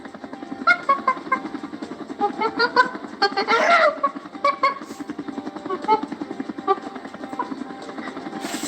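A battered, taped-together helicopter in flight thumps out a rapid, rhythmic rotor chop, loud and close, with voices speaking over it.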